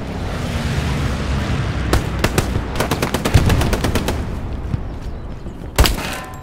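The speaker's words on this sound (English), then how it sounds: "There's a machine gunner in the window of the building." Machine gun fire in Hell Let Loose from a gunner in a building window: loud, rapid bursts of sharp shots in quick rhythmic strings over a noisy battlefield background, with a further burst near the end.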